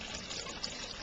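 A small garden waterfall trickles and splashes steadily in a brief, quiet, continuous burble with no other sounds.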